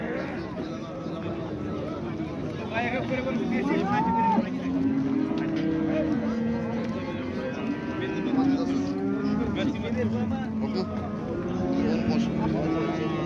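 Cows mooing at a Kazakh livestock market while people haggle over prices, several drawn-out lowing calls rising over a steady crowd murmur and close conversation throughout.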